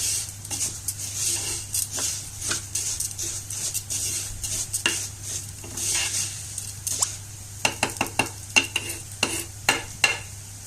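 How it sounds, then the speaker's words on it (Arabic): Toasted orzo (lisan asfour) pasta is turned in a pot with a utensil, giving a close dry rattling sizzle and repeated scraping strokes that turn quicker and sharper toward the end. No one speaks. "كده بنقلب لسان العصفور اهو"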